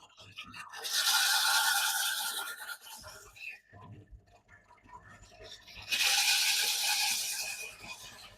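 Sander smoothing low-quality wood, two bursts of loud, close abrasive whirring about two seconds long each, separated by a quieter stretch with someone talking.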